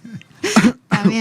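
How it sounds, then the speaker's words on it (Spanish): A person coughs during a sit-down interview after choking, two harsh throaty bursts close to the microphone. "esa tos... ha sido sin querer. Te has atragantado"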